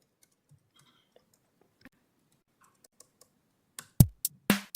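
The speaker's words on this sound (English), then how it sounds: "I'm trying really hard to hit my enter button to stop" A computer keyboard's enter key is struck repeatedly, faint scattered taps giving way to several loud, sharp presses near the end in a quiet room.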